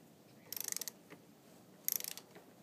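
A torque wrench ratchets on a pre-lubricated bolt set to 25 foot-pounds: two quick bursts of rapid, close clicking separated by a short pause, with quiet room noise between.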